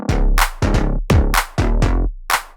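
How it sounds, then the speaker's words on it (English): A premium gold bass synth preset in a pop production, playing short, punchy deep notes in a bouncing rhythm of about six hits, loud and alone. "premium gold bass."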